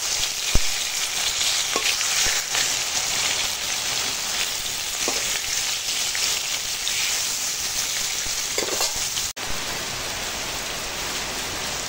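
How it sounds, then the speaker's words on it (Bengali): Pieces of rui fish frying in a wok of hot oil, a steady rain-like sizzle with scattered pops and spatters, continuous and close with no speech. "মাছ ভাজি"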